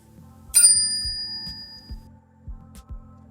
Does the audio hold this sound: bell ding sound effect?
yes